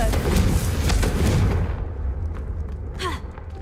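Confringo blasting spell explosion in the Hogwarts Legacy video game, a loud sustained rumbling boom for over a second that quickly decays into quieter background game ambience with a faint whoosh near the end.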